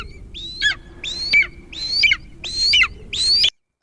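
An eagle gives five repeated sharp, high screeching cries in a steady rhythm, close and clear above a faint low hum, then cuts to silence.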